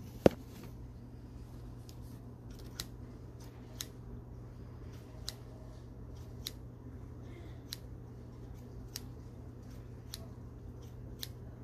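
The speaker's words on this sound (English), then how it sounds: "The glue sticks and the scissors." Scissors snipping in an ASMR K-pop shop roleplay, a steady series of crisp, close, quiet clicks spaced about every second over a low hum, with no talking.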